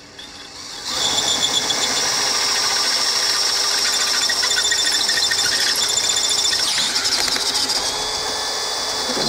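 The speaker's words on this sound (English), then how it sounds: "now we're gonna go ahead and drill out 1 and 2. Let me grab that drill." A drill with a 13/32 bit bores steadily through a car door hinge, a sustained high-pitched whine starting abruptly after a second and holding for about eight seconds with a brief grinding catch near the end.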